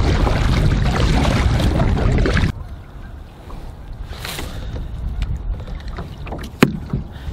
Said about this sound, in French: je suis désolé s'il y a des bruits de vent, ils ventent pas mal aujourd'hui quand même